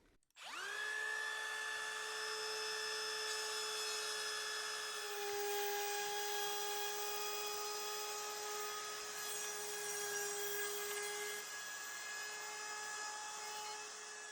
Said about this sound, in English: So I'll use the router and go ahead and trim this up